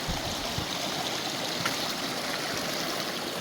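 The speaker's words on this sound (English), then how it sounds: "I love the sound of the creek running" Creek water running along a hiking trail, a steady close rushing and trickling flow filling the whole stretch with no talking.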